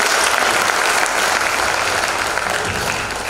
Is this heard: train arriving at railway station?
no